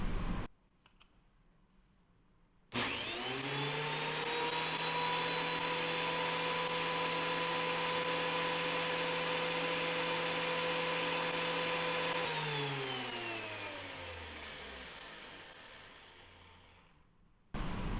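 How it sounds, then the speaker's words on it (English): A DeWalt DW734 thickness planer with a helical cutter head starts with a sudden loud whine, runs at a steady high-pitched drone for about ten seconds, then winds down as it shuts off. "let's go ahead and turn the planer on"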